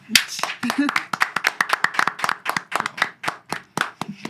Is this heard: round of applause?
yes